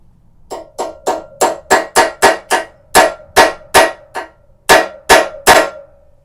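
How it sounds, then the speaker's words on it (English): Hammer tapping a Torx 20 bit into a fork bolt on a Harley-Davidson during a fork oil change: a loud run of about fourteen sharp metallic taps, fast and fairly even with a short pause near the end, ringing briefly after each strike. "next thing I'm going to try is tapping this Torx 20 bit in"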